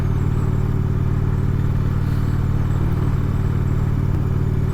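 A new motorcycle cruising steadily on cruise control, its engine droning in an even, loud, continuous hum with road rumble and no talk.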